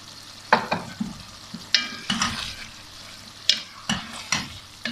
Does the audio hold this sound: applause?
no